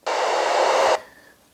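Open-squelch noise from a Yaesu FT-60 handheld radio set up for packet radio. A loud, steady burst of hiss cuts in abruptly and stops after about a second, leaving a faint lingering tone.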